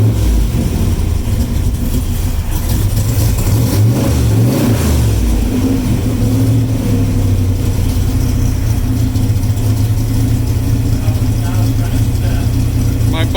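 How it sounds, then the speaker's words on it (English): A Kirkham Cobra's engine revs loud and close with a carburetor being adjusted, throaty mid-range roar rising and falling over a steady idle, with a voice talking over it. "This is a Kirkham Cobra."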